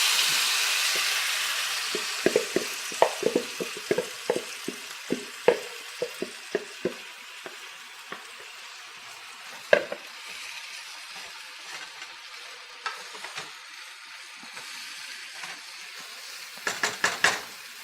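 Fish pieces for a fish curry going into hot oil in a pan: a steady background sizzle with a run of sharp clinks and taps from utensils against the pan, then a cluster of scraping knocks near the end, close and clear.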